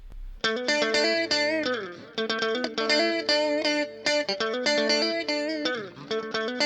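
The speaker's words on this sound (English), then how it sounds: "So I'm using the digital chorus preset in Echo Boy." A synth track plays through the digital chorus preset of the Echo Boy plug-in, giving rhythmic, sustained chords a wide, shimmering, slightly detuned sound, steady and loud with no voice over it.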